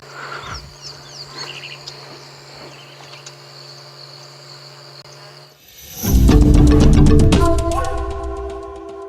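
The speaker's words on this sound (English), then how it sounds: "I love just sitting listening to the birds as they're getting their last calls in for the day." Evening bird calls and insect chirring on a safari at sunset, thin tones over a steady cricket drone, then a loud burst of dense, overlapping calls takes over in the second half.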